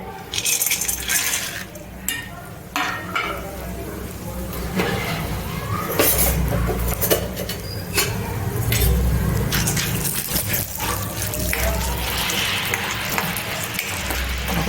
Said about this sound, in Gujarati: હવે આપણે એમાં સિંગદાણા નાખીશું જે આપણે ફોતરા ઉખેડીને તૈયાર કર્યા હતા